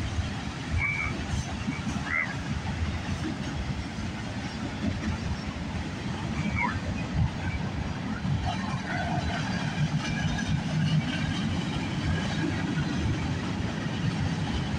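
A CN freight train of manifest cars rolls past at night, a continuous low rumble and rattle of wagons over the rails, steady and fairly close, with faint squeals now and then above the din.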